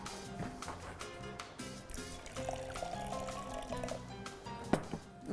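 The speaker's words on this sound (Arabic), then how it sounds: "وهقدر ازود عليها شويه ميه كمان، هخفها كمان بشويه ميه" Water poured into a bowl of seasoned chicken marinade for crispy KFC-style chicken tenders to thin it, a soft steady pour and trickle with light kitchen clatter, no talking.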